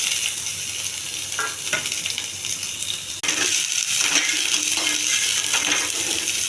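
Garlic and onions hitting hot oil in a pan, a steady crackling fry that jumps suddenly louder midway as more goes in, then keeps sizzling close by.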